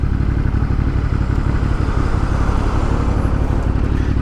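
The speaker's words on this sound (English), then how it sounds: "And there's a motorcycle behind me." Constant loud engine rumble and wind roar of riding a motorcycle in traffic on a 34°F cold day, with another motorcycle droning nearby behind; no voices.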